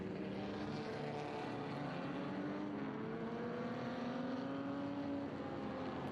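Vintage racing cars take a corner three abreast at a feature race, their engines rising and falling in overlapping pitch sweeps, heard faint and distant under steady crowd and track ambience.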